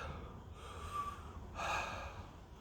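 Heavy breathing after eating a 7 Pot Oracle chili pepper, two close, loud sharp inhales or gasps with a snorting edge, separated by a short pause.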